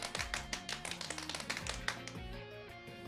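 Clapping sound effect from the Super Robot Wars 30 video game: a quick series of sharp, light tapping hits in an uneven burst, with soft electronic tones running underneath.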